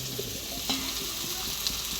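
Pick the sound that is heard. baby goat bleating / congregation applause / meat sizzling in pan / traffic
meat sizzling in pan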